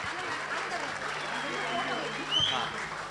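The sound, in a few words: audience applause after kids' dance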